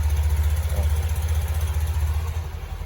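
A Beat Deluxe motorcycle engine idles steadily close by, a low rhythmic putter holding constant throughout with no voices.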